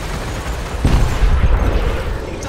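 A ship blowing up in the space game Elite Dangerous, a loud, heavy boom that swells suddenly and rumbles on over steady background noise.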